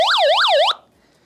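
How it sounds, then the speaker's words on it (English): A FosPower Model A1 emergency solar crank weather radio's loud electronic siren wails close up in fast rising-and-falling sweeps, about two cycles, then stops abruptly. "it sounds a siren and it flashes"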